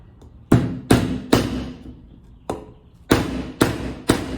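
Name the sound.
16 ounce hammer driving a common nail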